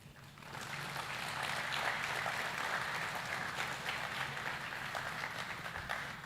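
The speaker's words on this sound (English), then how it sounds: "give another round of applause" Audience applause at a student orientation for regional and international students, a broad, steady wash of many hands clapping that swells in after a quiet start and holds evenly, heard from some distance.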